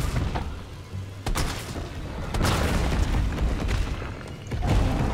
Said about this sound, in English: finish him off, hopefully, with the shotgun